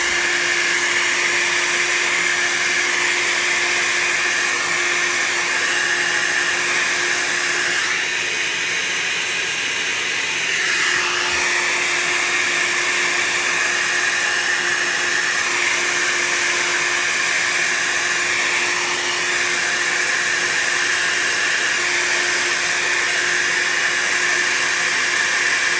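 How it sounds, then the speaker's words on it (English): A hair dryer blows steadily on an alcohol ink painting, a loud, continuous airy roar lasting the whole stretch with only slight shifts in pitch as it moves. "Giving it a little extra time there with the dryer"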